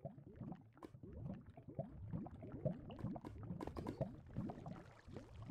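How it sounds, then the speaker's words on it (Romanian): Bubbling, gurgling water and lava in Minecraft, continuous and moderately quiet, like flowing water mixed with popping lava. "S-aude deja apa și lava."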